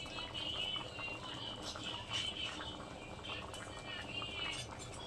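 Pea lentil dal with garam masala and chopped coriander bubbling steadily in a pot, a continuous dense simmering hiss and soft popping heard up close without talk.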